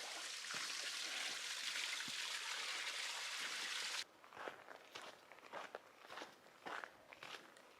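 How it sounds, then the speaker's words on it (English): Small stream flowing across a hiking trail on the Arizona Trail: a close, steady rush of water for about four seconds, then it cuts off and crunching footsteps on the trail take over. "Just coming up on a flowing stream across the trail."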